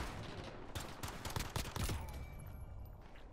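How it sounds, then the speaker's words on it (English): Rapid bursts of gunfire aimed at a sniper in Call of Duty: Modern Warfare, a dense cluster of sharp shots packed together in the first two seconds before trailing off into echoing ambience. "I'm gonna shoot at the sniper"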